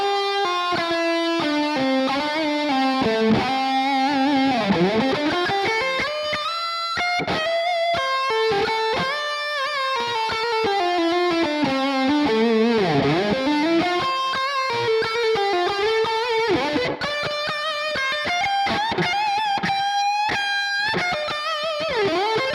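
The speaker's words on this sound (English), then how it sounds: "Let's play with this pushed Synergy Morgan and this Klon Centaur thing with tons of gain." Electric guitar played through a Quad Cortex modelling a pushed Synergy Morgan amp with a Klon Centaur in front, heavy gain and reverb: a continuous, loud, sustained distorted run of ringing notes and bends with no talking.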